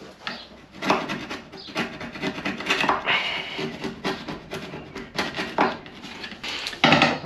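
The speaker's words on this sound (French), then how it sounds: "On va peut-être gratter la pintoche ici." Paint being scraped off metal on a vehicle restoration project, repeated close rasping strokes with scratchy grinding bursts and short pauses between them.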